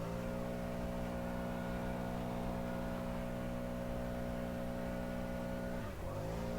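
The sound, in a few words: leaf blower on a gravel path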